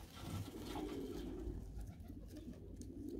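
Pigeons coo softly and repeatedly inside a loft in spring, a low murmuring chorus close by with no talking.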